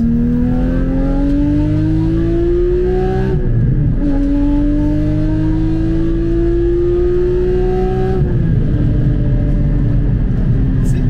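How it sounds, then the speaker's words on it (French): Porsche Cayman GT4 981 with a Dundon upgrade revving hard under acceleration, the engine note climbing steadily through two gear pulls with a brief dip at each shift, loud and continuous from inside the car. "Même à 6000, on accélère, clac, ça reprend."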